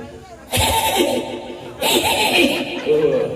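A voice imitates a horse neighing in two drawn-out, wavering whinny-like bursts, close and fairly loud, while an audience laughs underneath.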